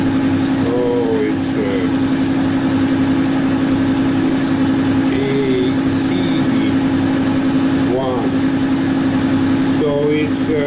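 A metal-cutting machine spins at about 1300 RPM, feeding 0.03 mm per revolution at a 0.25 mm depth of cut. It gives a loud, steady hum that runs unbroken throughout, with someone talking over it.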